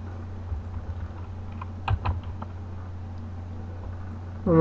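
Quick, soft keystrokes as a name is typed on a computer keyboard, a short cluster of taps over a steady low hum, close and fairly quiet.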